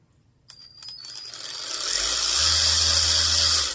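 An Alloyman 16.8V cordless ratchet with a variable-speed paddle revs up after a click, a rising whir that settles into a steady buzzing drone, close and fairly loud.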